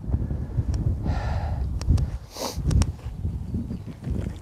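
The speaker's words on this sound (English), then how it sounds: "very exposed this part of the course, by the way. Very, very windy." Strong wind buffets the microphone on an exposed stretch of Hartlepool's links golf course, a steady low rumble and gusting roar running throughout the clip with faint higher hiss bursts and no talk.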